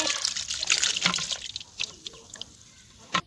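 Water poured over small darkina fish in a bowl, an opening rush of splashing liquid that thins into scattered drips and small splashes, close by with a faint voice underneath.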